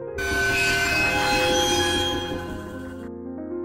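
An anime train rolls on its rails with a loud, steady metallic rumble and a sustained wheel whine, then fades slightly near the end.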